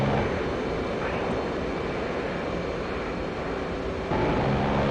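A fighter aircraft engine in a VR dogfighting game roars as a loud, steady drone that holds constant throughout, with a slight shift in tone near the end.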